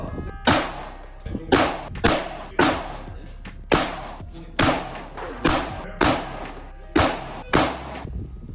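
Rifle shots fired with standard Winchester 5.56 target ammunition at a long-range outdoor range, ten sharp cracks in an even, steady rhythm about one per second, each with a short decaying tail, loud and alone without talk.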